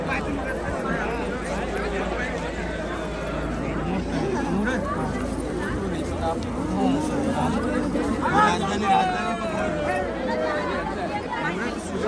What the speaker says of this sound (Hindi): इतनी भीड़ है भाई, ज़बरदस्त